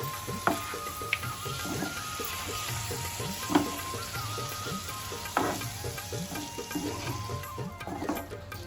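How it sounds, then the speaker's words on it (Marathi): Prawns fry in a spiced masala for an Aagri-style seafood dish, a steady close sizzle broken by regular clicks and scrapes of a spoon stirring the pan. "आता त्यात कोलंबी टाकू आणि कोलंबी सुद्धा मसाल्यामध्ये जाम परतून घेऊ"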